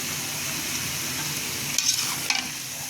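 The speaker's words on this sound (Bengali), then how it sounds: "2-1 মিনিট ভালো করে এটাকে নেড়ে মিশিয়ে নেব।" A spoon steadily stirs a sizzling vegetable curry of eggplant, potato, pointed gourd and tomato with dried fish and cumin powder in a frying pan, a constant close frying hiss broken by a couple of brief scrapes.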